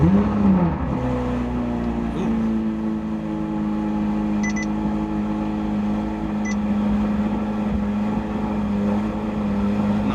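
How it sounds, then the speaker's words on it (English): A C8 Corvette Z06 engine, fitted with 92mm throttle bodies, idles steadily and loudly on a cold start with a deep, rumbling drone, holding a constant pitch throughout with no voices. "First start after the new 92mm throttle bodies."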